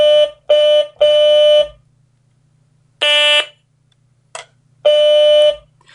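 A Stylophone sample library in Kontakt, heard through speakers into a microphone, sounds as a series of buzzy square-wave notes, three quick presses, then a pause, another press, a short blip and a final held tone.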